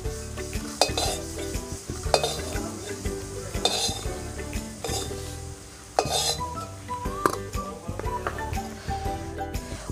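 Fried soybeans are scooped from a hot pan into a pot holding set-aside potatoes: repeated metal spoon scrapes and clinks against cookware over a soft, continuous sizzle, close and fairly loud.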